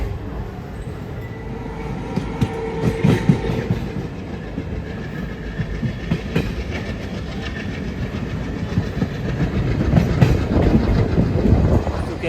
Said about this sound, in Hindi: ट्रेन अपनी निकल चुकी है हरिद्वार से अपने आखिरी सफ़र की ओर